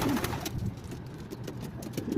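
Pigeons coo in soft, low, rolling calls, several overlapping murmurs close by amid light background noise, with no talking.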